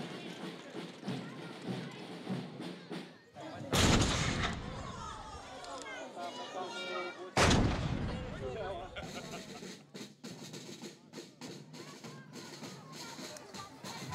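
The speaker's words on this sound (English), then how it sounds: "cavalry and artillery divisions march through the streets of the citadel, before gathering on the ramparts to finish with a bang" Ceremonial artillery fires two loud, booming shots from the ramparts of a Romanian citadel during a changing of the guard, a few seconds apart. Crowd murmur and voices go on underneath, and an echoing rumble trails after each blast.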